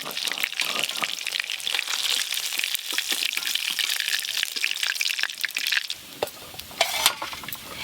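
Bhorkol fish pieces frying in a pan for a Bengali home-cooked meal give a steady, close, bright sizzle with scraping stirs throughout, easing slightly near the end.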